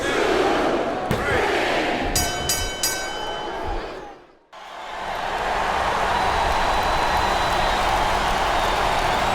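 A capacity arena crowd in the wrestling game WWE SmackDown vs. RAW 2007 roars continuously. A few sharp impacts land near the start, the noise drops out briefly and then the loud cheering returns.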